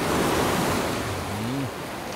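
Ocean waves wash in steadily as a broad surf roar with wind on the microphone, while a low voice-like sweep rises and falls near the end of the short stretch.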